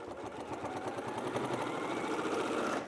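A sewing machine quilts through all the layers of a butterflies-and-blooms quilt, a fast steady mechanical chatter of needle strokes running continuously at moderate volume, close by and with no talk over it.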